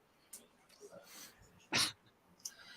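A dog whimpers and yips in short, scattered bursts, with one loud, sharp, breathy burst near the middle, while people talk nearby indoors.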